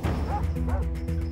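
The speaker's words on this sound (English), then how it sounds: "here come some dogs." Hunting dogs barking as they run through the woods during a deer hunt, a few sharp, close, overlapping barks and yelps in quick succession.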